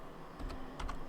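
A short burst of computer keyboard typing, a few quick clicks clustered in two groups at close range, with no talking.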